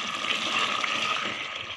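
Water pours steadily into a cooking pot of chicken for shorba, a continuous rushing, splashing gush at close range with no break throughout.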